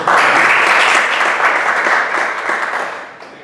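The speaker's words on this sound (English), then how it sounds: "Give a big round of applause" Loud, close applause fills a Toastmasters club meeting room, a dense burst of many hands clapping at once that holds steady for a few seconds before thinning and fading out.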